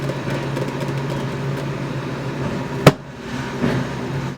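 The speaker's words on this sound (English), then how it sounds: "There's a huge garbage truck outside" A large garbage truck rumbling outside, a steady low engine drone with a sharp clank partway through, then continuing faintly.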